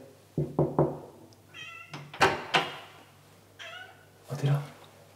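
A cat meows several times from behind a closed apartment door, mixed with sharp knocks on the door; the meows are near and fairly loud, with people talking quietly around them.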